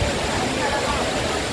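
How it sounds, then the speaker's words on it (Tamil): The Aagaya Gangai waterfall in the Kolli Hills roars as a loud, constant rush of falling water, heard from the rocks facing the falls, steady and unbroken. "இப்போ நம்ம அருவிக்கு வந்துட்டோம்."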